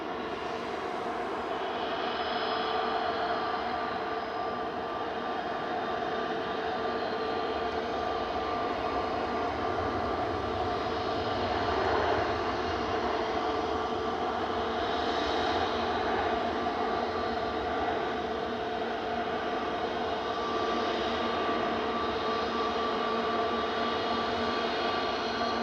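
A Singapore Airlines jet taxiing at Manchester Airport, its engines giving a steady distant whine and low rumble that holds evenly for the whole stretch with no talking.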